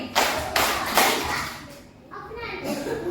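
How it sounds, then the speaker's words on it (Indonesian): A class of children claps in unison three times, three loud group claps about half a second apart, followed by children's chatter and a teacher's voice. "Tepuk 3 kali."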